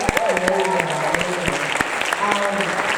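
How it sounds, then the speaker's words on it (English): An audience claps for a presenter named Matt, a steady, dense patter of applause lasting the whole stretch, with a voice talking over it throughout. "Let's give a clap for Matt."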